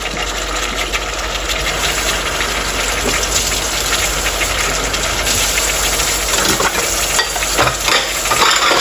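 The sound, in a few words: sautéing chicken with taro root in a pot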